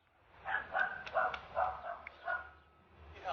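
A mother dog named Angelique with her puppies, a string of short yips and whimpers close by, several quick calls spaced through a quiet room.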